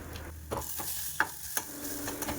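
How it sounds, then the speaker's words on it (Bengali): Ground spice masala for a mushroom curry dry-frying in a pan, a soft steady sizzle with several sharp scrapes and clicks of stirring spread through, close and alone. "মশলাটা ভাজা ভাজা হয়ে গেছে, এরপরে আমি এটা নামিয়ে নেব।"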